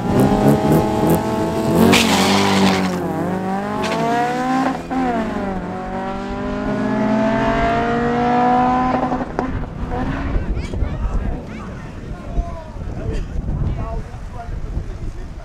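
Drag racing cars in a class A final at Midvaal Raceway roar loudly and close, engines revving and rising in pitch as they launch and pull away, with heavy wind buffeting and a voice announcing over the noise.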